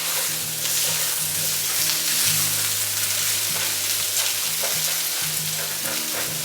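Sausage and eggs frying together in a cast iron pan, a loud, close, continuous sizzle with steady scraping and knocking as a spatula stirs and mixes them.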